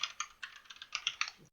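Rapid typing on a new computer keyboard while logging in, a quick uneven run of crisp key clicks close up with no voices.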